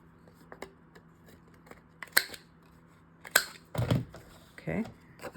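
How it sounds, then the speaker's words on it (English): Scissors angle-cutting the corners of a scored, burnished paper gift box: a few quick crisp snips close by, spaced out over several seconds, with faint handling noise between them. "Then we will angle cut our corners if we want to."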